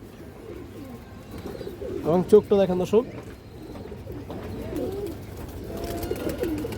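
Indian Kaldom pigeons give a clear, close throaty coo in a short rolling series, with someone talking over and around the calls.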